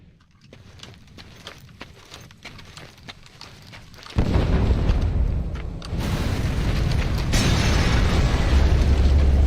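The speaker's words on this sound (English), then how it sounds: "Be sure to time the explosion carefully." Explosion from C4 detonated in the video game Metal Gear Solid V, a sudden loud blast that jumps in after quieter game ambience, followed by a sustained roaring rumble and a second surge of debris noise.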